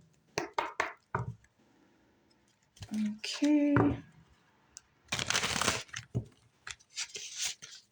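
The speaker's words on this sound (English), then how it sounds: "I'm going to do one more shuffle." Tarot cards are shuffled by hand in short riffling and tapping bursts separated by pauses, fairly close, and a single brief spoken word breaks in partway through.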